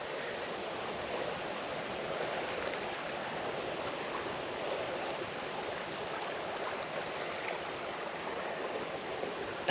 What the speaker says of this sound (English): Walking alongside this creek.